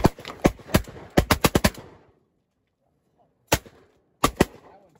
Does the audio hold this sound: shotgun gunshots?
yes